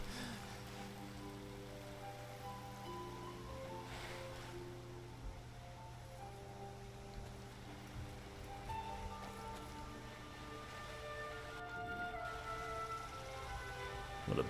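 Water sloshes and splashes steadily as a character swims through a river in Skyrim, a continuous watery wash with tonal background music running beneath it.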